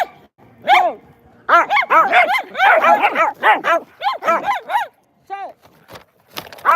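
Several dogs, Rusty and Cooper among them, bark and yip excitedly at close range indoors in rapid overlapping bursts with a few whimpers, pausing briefly before the barking starts again.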